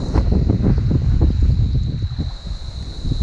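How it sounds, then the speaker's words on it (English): Strong wind buffets the microphone on an open fishing boat out on the water, a loud continuous low rumble with gusty surges and no speech, while fishing for mangrove jack and flathead. "That wind is absolutely flogging through at the moment."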